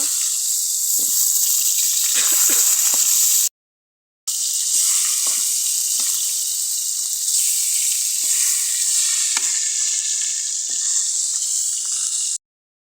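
Rui fish frying in oil and turned over in the pan, a loud, continuous close sizzle with a brief gap partway through.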